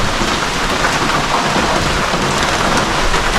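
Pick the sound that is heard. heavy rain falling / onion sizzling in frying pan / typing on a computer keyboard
heavy rain falling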